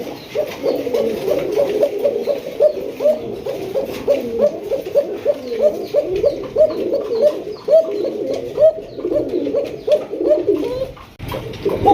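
Many fancy pigeons coo continuously at close range, overlapping rounded throaty calls with a busy repetitive rhythm, loud and steady throughout.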